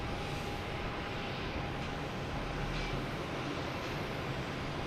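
Airplane arriving from London Heathrow at Boston Logan Airport, heading to Terminal E: a constant distant jet engine rumble and rush stays steady throughout, unbroken and free of speech.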